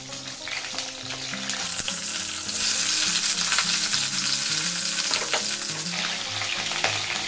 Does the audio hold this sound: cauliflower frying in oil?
yes